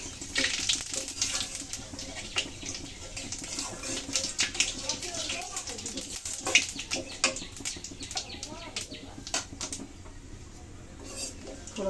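Dried chillies, bay leaves and whole cumin crackle as they temper in very hot oil, a steady close sizzle with small pops, while a voice talks over it.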